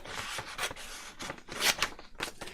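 Scissors snipping around a paper shape for a junk journal page, a series of close, crisp cutting strokes in an uneven rhythm with brief pauses between snips.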